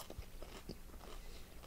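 Crunchy seasoned fries are bitten and chewed close to the mic in a few quick, faint crunches, with no talking, over steady background hiss.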